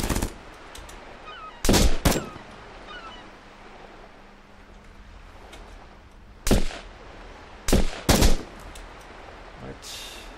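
Gunfire in the tactical video game Jagged Alliance: Back in Action, several short loud bursts of automatic fire spaced apart over a quiet outdoor ambience, no talk.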